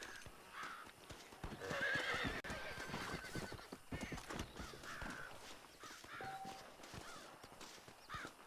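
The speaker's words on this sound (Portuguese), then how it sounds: "Muito cavalo aqui, cara, ó." Horses in Red Dead whinny and neigh while hooves clip-clop nearby, with crows cawing in the background and the sounds rising and falling.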